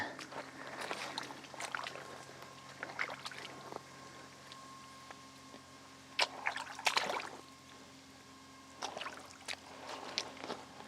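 Footsteps through a shallow creek in waterproof boots, with irregular splashes and sloshing water in bursts and quieter trickling between them, close by and moderately loud.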